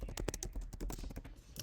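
Rapid keystrokes on a computer keyboard as a password is typed, a close, quick run of sharp clicks with short pauses between bursts.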